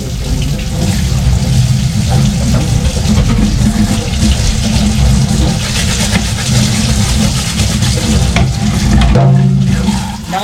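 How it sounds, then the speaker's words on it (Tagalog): A strong, steady gush of running water pours loudly and continuously close by, with no voices over it. "Lakas ng tubig."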